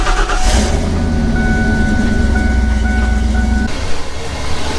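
A car engine runs steadily at idle while warming up, a continuous low rumble with a faint whine, fairly close and loud, cutting off near the end to quieter background noise.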